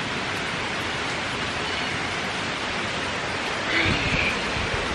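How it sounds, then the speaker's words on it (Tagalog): Heavy rain pours steadily outside a house in New York, a dense, even hiss with no break, close and loud throughout. "Lumakas na naman yung ulan."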